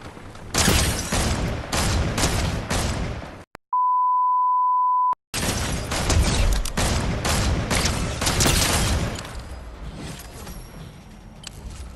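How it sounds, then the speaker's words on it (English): Dense Fortnite gunfire, rapid overlapping shots and bursts that fill the scene loudly, cut off in the middle by a steady electronic beep tone lasting under two seconds before the firing resumes. "Oh my god, there's more shooting going on down here"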